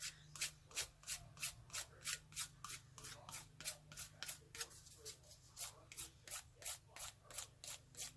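A vase is sanded by hand with a heavy-grit nail file, making quick, even rasping strokes at roughly two to three per second. The scraping is close and steady over a faint low hum.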